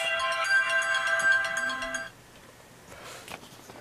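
A phone ringtone signals an incoming call, a bright repeating melodic tone that rings loudly for about two seconds and then cuts off, leaving faint room noise and small handling sounds.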